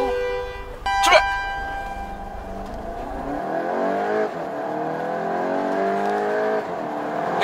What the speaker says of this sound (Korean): 주행 모드를 일반 드라이브가 아닌 스포츠 모드로 놓은 상태에서 안전 확인하고